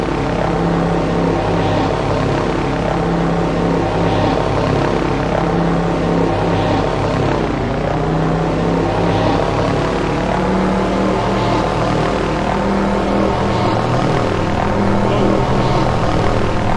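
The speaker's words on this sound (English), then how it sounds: "That helicopter moving like that just jacked me up." Helicopter flying in a video game, a loud, continuous engine and rotor drone throughout, steady and close, with a shift in pitch near the end.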